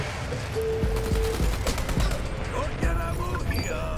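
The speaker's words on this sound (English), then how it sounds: "that was a quite nice airstrike, killing one person and disabling the EV" Airstrike in the online shooter Dirty Bomb: a burst of several sharp explosive blasts and cracks in quick succession amid game noise and gunfire, moderately loud.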